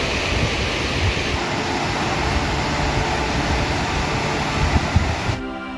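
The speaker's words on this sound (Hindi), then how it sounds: "तीव्र जल प्रवाह से उठता शोर मन मस्तिष्क में एक हलचल उत्पन्न कर रहा था।" Gauri Ganga river rushing fast along a mountain road route: a broad, steady roar of churning water, loud and continuous, cutting off abruptly at the very end.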